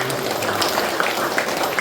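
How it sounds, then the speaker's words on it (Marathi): Congregation clapping hands in praise to God at a church service, a steady dense wash of applause lasting under two seconds. "आपण टाळ्या वाजवत देवाच्या"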